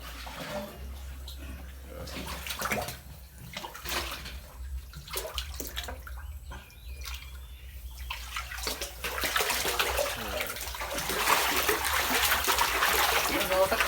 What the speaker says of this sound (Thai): เป็นการถ่ายน้ำออกก่อนนะครับ เพื่อจับแม่พันธุ์นะครับ